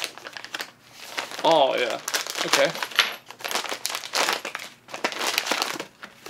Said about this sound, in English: Oh, this is gonna be one of those like Mylar blankets.